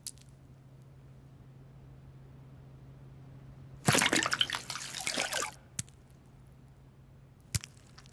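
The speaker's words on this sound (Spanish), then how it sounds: "el agua pura y corriente captará toda la suciedad y dejará la cuchara totalmente limpia" Pure running water poured over a spoon coated with a water-repellent surface gives a short, splashy burst of pouring lasting about two seconds, preceded by quiet background hum and followed by a few isolated drips.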